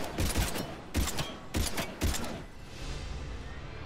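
Pistol fire from the video game Mass Effect 3 comes as four sharp, loud shots in an even rhythm, then trails off into a fading hiss.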